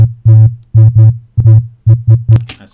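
A deep, buzzy bass line made from a sound pitched down three octaves in Audacity: nine short, loud tones in a choppy rhythm, each with a rich harmonic buzz, ending in a brief noisy hiss.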